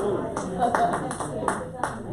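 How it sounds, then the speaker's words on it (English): An audience of veterans claps steadily for a couple of seconds, a dense patter of many hands at moderate distance filling the room. "What's all that applause for?"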